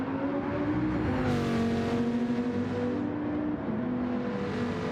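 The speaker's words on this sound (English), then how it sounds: "Gotta love that V10." A Dodge Viper's V10 engine holds a steady, throaty drone in a racing video game at Interlagos, its pitch briefly climbing and dipping as it revs, loud and continuous with no talk.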